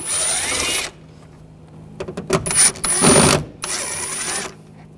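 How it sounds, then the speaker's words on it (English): Short bursts of a hand-turned Phillips screwdriver backing screws out of a plastic trim cover inside a 2007-2013 BMW 328i, close, intermittent clicks and scraping separated by quiet pauses. "Using a Phillips head screwdriver, take these screws out."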